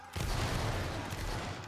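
A musket volley rings out in a Roblox Napoleonic line-battle game, a single dense crash of many shots fired together that fills the moment and holds steady as a rolling roar, with no talk over it.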